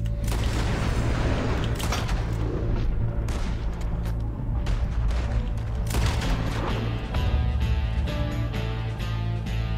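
Repeated gunfire in a town shootout in Red Dead Redemption 2, sharp shots and booms firing at an irregular rhythm over a steady low game rumble, fairly loud and continuous.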